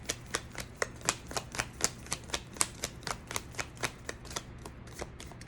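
A thick tarot deck is shuffled by hand, producing a steady train of crisp, evenly spaced card clicks and riffles, close and fairly quiet, with no talking.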